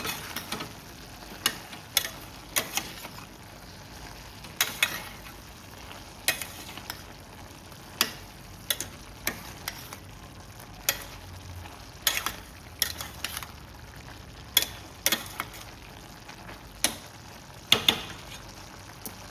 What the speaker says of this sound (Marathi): सो आतां आमी हें सगळें मिक्स करया.